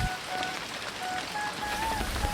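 Heavy downpour in a rural village, a steady dense hiss of rain falling on surfaces, close and continuous throughout with no voices.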